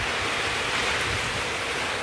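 Strong wind blows during a rainstorm in the Brazilian sertão, a steady broadband roar with no pauses, close and loud like gusts hitting the microphone.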